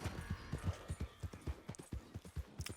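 Horse hooves clop in a steady, rhythmic gait through Red Dead Redemption 2, each footfall distinct and fairly quiet, with no talking.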